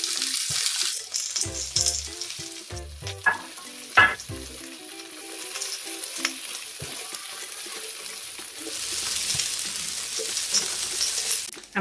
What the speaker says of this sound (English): Start now by sauteing my vegetables.